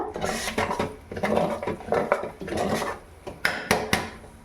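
Sweet sugar pongal is stirred in a pot as the sugar melts into a syrupy mass, heard as close, repeated scraping of a spoon against metal with occasional sharper knocks, no speech.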